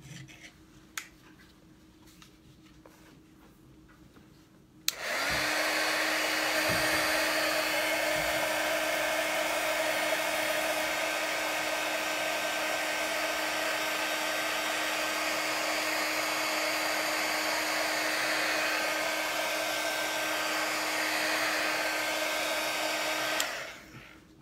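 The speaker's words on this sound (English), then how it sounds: "everybody's house sounds like that right now if everybody is using hair dryer" A hair dryer roars steadily at close range for about twenty seconds, switching on abruptly and cutting off at the end, with no talking.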